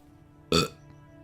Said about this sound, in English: Weak burp.